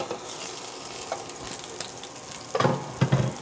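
A bison burger patty sizzling in a frying pan, a steady crackling hiss with a few louder pops and spatters near the end, close up and unaccompanied by voices.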